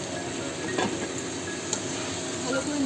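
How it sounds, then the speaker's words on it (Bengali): Marinated meat coated in salt and turmeric drops into hot oil with curry spices, giving a steady close sizzle with light stirring and a faint clink of utensils. "এবার এর মধ্যে আমি নুন আর হলুদ দিয়ে মাখা মাংসটা দিয়ে দিচ্ছি"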